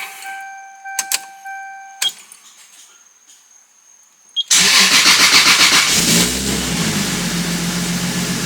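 A Toyota MK4 Supra engine fires up after its ignition relay is replaced. A few faint clicks and ticks come first, then the starter catches and the engine roars to life loudly and settles into a steady, close idle.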